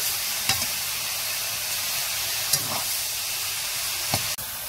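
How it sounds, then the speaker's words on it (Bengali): Chicken momo filling sizzles in a hot pan, a dense steady hiss broken by a few light scraping stirs, close and loud with no voices. "দিয়ে হালকা একটু নাড়াচাড়া করে নেব।"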